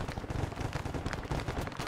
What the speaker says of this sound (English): We have some machine gun fire.